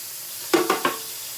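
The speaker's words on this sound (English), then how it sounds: "And this is hot water, and the skillet is still hot." Hot water hits a still-hot skillet holding deer steak gravy, giving three quick sizzling bursts close up, each hiss fading fast.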